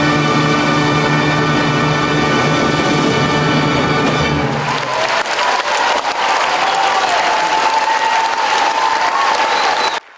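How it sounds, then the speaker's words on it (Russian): Music fades out as an audience rises in a standing ovation, and sustained, dense applause fills the hall, steady and loud until it cuts off. "Зрители аплодируют стоя."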